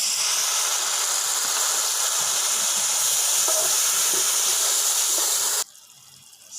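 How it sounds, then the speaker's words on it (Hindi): Water poured into hot spice masala for mutton liver kaleji hisses and steams loudly and steadily for several seconds, then cuts off sharply to a quieter background. "साथ में थोड़ा सा पानी डालने लगा हूँ उसमें।"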